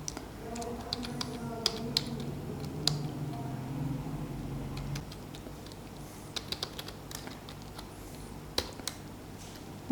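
A computer keyboard clacks as a printf statement for a C program is typed, a run of quick close keystrokes that thins out over a steady low hum.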